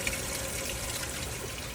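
Fish water running through holes in a pond aquaponics system, a steady close trickling flow like a tap filling a sink, heard alone without voices.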